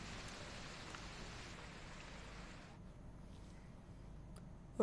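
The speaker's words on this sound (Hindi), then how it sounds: "हरियाणा में सुबह से ही कई जगहों पर बारिश हो रही है।" Rain falls steadily across Haryana, a broad even hiss of water that softens slightly partway through, with no voices.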